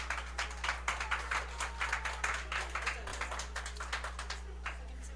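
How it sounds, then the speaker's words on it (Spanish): Scattered clapping from a modest group at an interview event, the individual claps distinct and moderately quiet, over a steady electrical hum. "Así que el aplauso súper bonito para todos ellos."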